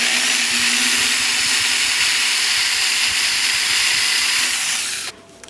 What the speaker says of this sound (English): the very tip of the drill bit is trying to make a mark there, but in no way are the flutes grabbing into the metal